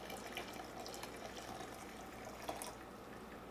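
Coffee poured into a cup at a coffeehouse, a soft steady liquid trickle heard close and alone, with a faint splash near the end.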